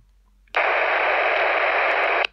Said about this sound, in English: every time I transmit, you'll hear it do the hissing sound